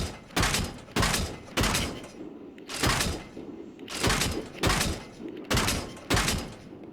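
A vehicle-mounted machine gun fires in the Arma video game, loosing about nine short, punchy bursts at a fairly regular pace, each with a booming low thump, close and loud.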